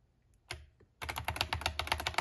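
Typing on a Roccat Vulkan Pro gaming keyboard: a couple of separate clicks, then a quick, steady burst of fairly soft, close keystrokes, with no voices.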